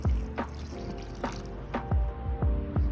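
Water poured in small splashes into vegan pop tart dough, several quick soft drips and plops in uneven rhythm, close and quiet with nothing else heard.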